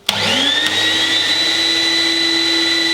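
A bandsaw switches on with a sharp click and spools up into a steady, loud, even motor whine with a high tonal hum that holds unchanged to the end.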